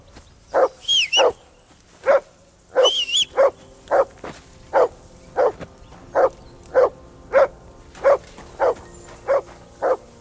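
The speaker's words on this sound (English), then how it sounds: "whistle at that mutt of yours to stop barking" A dog barks in the video game Kingdom Come Deliverance II, loud, close, repeated barks in a steady rhythm of about a dozen, with a couple of higher yelps early on.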